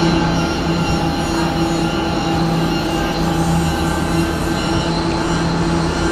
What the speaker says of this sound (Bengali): এই যে রোপওয়ে চলছে পেলিংয়ে হেলিপ্যাড গ্রাউন্ড থেকে স্কাইওয়াক পর্যন্ত আসার জন্য।